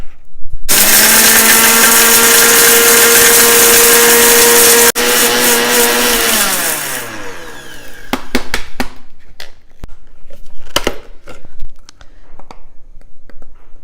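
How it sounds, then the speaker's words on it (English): An electric spice grinder pulverises poppy and fennel seeds with cardamom, roaring loudly at a steady high whine for several seconds, then winding down and coasting to a stop, followed by a few rattles and clicks from the machine. "I'm going to grind them."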